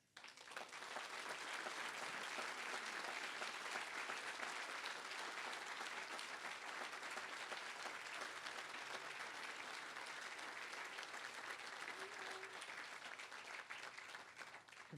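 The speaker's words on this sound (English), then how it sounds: "completely appropriate applause" Sustained applause from a fundraiser audience for a nature center award winner, a loud, even roar of many people clapping that holds steady for the whole stretch before tapering at the end.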